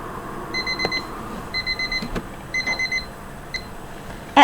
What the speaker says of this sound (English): At 4 in the morning, Lucy's alarm clock chimed.